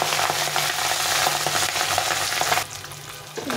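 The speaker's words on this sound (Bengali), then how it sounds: "এখন মাছটা একদিকে ভাজা হয়ে গেছে, এখন আমি একে উল্টে দিয়ে ভেজে নেব" Pabda fish fry in hot oil with a loud, crackling sizzle that continues steadily, then cuts off abruptly toward the end and leaves a quieter hiss.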